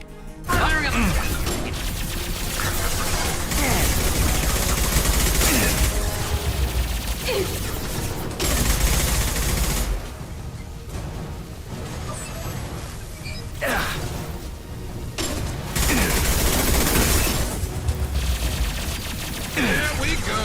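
Mass Effect 2 firefight against a private army: dense, rapid bursts of automatic gunfire with crashes and impacts, mixed with voices talking over the shooting throughout.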